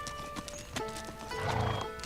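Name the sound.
horse being ridden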